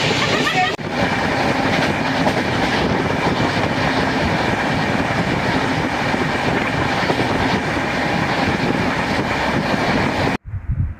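A train at NJP (New Jalpaiguri) railway station makes a loud, steady roar and rumble for about ten seconds before an abrupt cut. A brief pause comes near the start, and a voice can be heard faintly.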